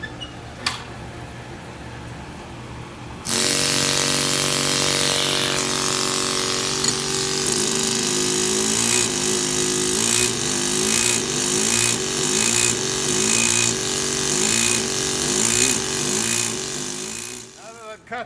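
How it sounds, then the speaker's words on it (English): A round chisel, likely driven by a pneumatic tool, cuts a line across a granite block while squaring it: loud continuous buzzy hammering with rhythmic pulsing, starting a few seconds in and running to the end. "Cut this line the whole way across with my round chisel."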